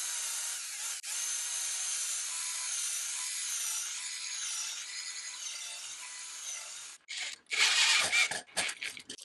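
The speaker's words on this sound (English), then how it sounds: "I'm going to pre-drill with a 7/64 inch drill bit because this is oak" A power drill pre-drills oak with a 7/64 inch bit for screws at a mitered corner held in a corner clamp, giving a long steady whirring bore that ends in a few short bursts and rubs.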